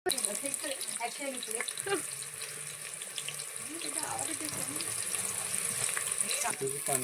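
Water splashing into a pan on a gas stove while cooking chicken, a steady gushing pour with faint sizzle as someone talks over it.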